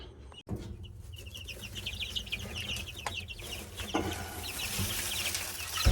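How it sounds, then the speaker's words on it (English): Chickens clucking repeatedly in a busy, steady chorus over a low rumbling background, moderately close. "Time to feed the chickens."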